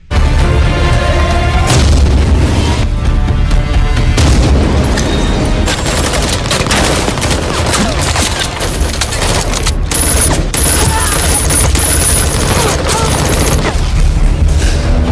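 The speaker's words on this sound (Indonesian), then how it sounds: "hingga baku tembak pun tak bisa dihindari lagi" Gunfire and booming explosions in a shootout between soldiers and mercenaries in an action film, sustained and loud throughout with dense bursts and heavy low rumble under a music-like score.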